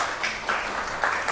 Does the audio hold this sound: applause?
yes